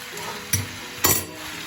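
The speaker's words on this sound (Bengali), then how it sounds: "সুন্দর করে হলুদ গুঁড়োটা সবজিতে মিক্স করে দেবেন" Two brief scraping stirs as turmeric powder is mixed into vegetables frying in a pan, with a soft sizzle running underneath.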